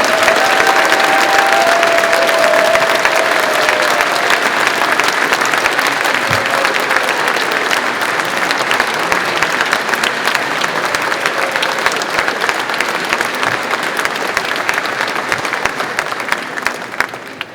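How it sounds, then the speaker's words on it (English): A large audience gives a long, steady round of applause at the Longhorn Racing 2024 unveiling event, dense clapping sustained loudly for the full stretch with a few faint cheers mixed in. "Can we have another huge round of applause for every single member on all three teams"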